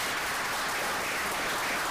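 Steady applause from an audience at a Cumberland County commissioners' regular board meeting, a brief, even wash of clapping heard from a distance with no pause.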